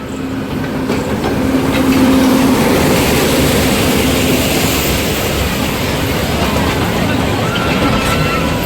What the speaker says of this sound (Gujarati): ટ્રેન તમે જોઈ રહ્યા છો કે પાછો રાઉન્ડ ફરી રાઉન્ડ મારીને આવી ગઈ છે